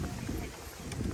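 Strong gusting wind on the summit of Mount Taranaki in New Zealand buffets the microphone with loud, continuous low roaring rumble throughout the short moment, with no clear speech.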